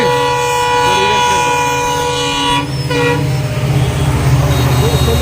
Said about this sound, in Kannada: ಇದೇಗ ಒಂದು ಟ್ರೈನ್ ಹೋಯ್ತು